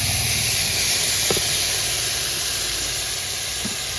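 Chopped tomatoes hit a pan of frying chicken kuruma, giving a loud, steady sizzle and hiss throughout with a couple of brief clinks, and no talking.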